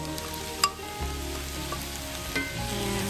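Thinly sliced mushrooms hit a hot pan and sizzle loudly, a dense steady frying hiss with a few clacks of stirring up close, no talking.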